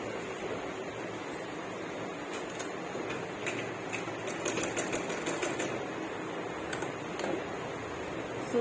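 Sewing machine stitching steadily at close range, a continuous mechanical whir with faint ticking needle strokes throughout, no talking.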